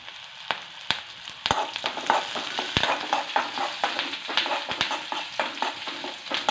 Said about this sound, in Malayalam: കറിവേപ്പില ഇടുവാണേ